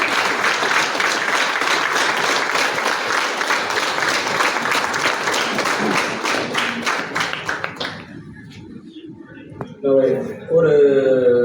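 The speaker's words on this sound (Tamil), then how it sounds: "இப்ப நல்ல கைத்தட்டல் கொடுக்கலாம்." An audience applauds at a club president's installation ceremony, a dense, sustained round of clapping in a hall that thins out and fades after about eight seconds, followed by speech.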